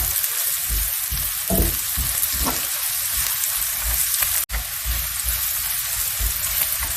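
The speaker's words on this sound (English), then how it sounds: "Gently stir." Onions seasoned with turmeric, salt and pepper fry in a pan while being gently stirred, giving a loud, steady, close sizzle broken by soft scrapes of the spoon.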